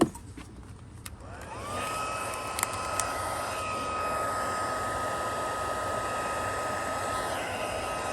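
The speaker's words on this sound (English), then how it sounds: "Grab my heat tool again." A steady blowing whir from an embossing heat tool starts after a few clicks, then runs continuously at an even level with a sustained high tone.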